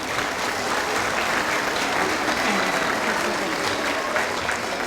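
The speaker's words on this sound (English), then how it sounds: "Give them a round of applause." A school audience at a fifth grade celebration applauds students named to the Accelerated Reader Wall of Fame, a steady wash of clapping that holds evenly throughout at moderate volume.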